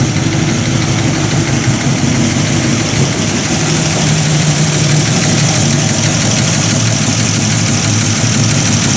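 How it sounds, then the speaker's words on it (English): A 1950 Buick Roadmaster engine idling loudly and steadily nearby, its low rumble carrying a busy, continuous ticking of clicking valves. "I can hear them valves clickety-clacketing away under there"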